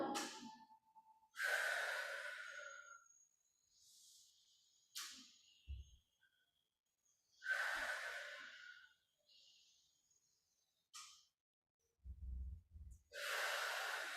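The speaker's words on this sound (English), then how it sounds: "Remember to breathe. I'm exhaling as I come up." Slow, close breathing during a seated chair stretch, several soft inhales and longer breathy exhales separated by quiet pauses.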